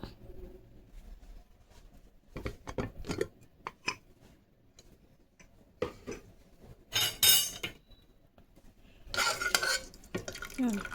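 Cooked lentils for dal fry are stirred in a pot, with scattered scraping and clinking strokes of a spoon against metal and louder bursts of stirring, close and alone.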